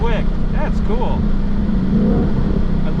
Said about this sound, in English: I love the downshifts on the paddles.